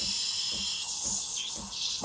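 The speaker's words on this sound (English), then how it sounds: "I will turn on the steamer, and we'll steam some milk" Steam wand of a Breville Barista Express BES870 espresso machine steaming milk in a jug, a continuous loud hiss with a thin high whistle and soft gurgling swirls pulsing underneath.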